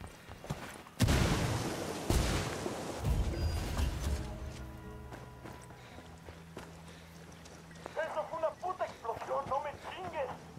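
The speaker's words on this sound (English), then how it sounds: "Yep, you heard the explosion, buddy." A grenade goes off in Ghost Recon Wildlands with a sudden loud blast, then a rumbling tail and scattered debris. Radio-style voices come in afterward.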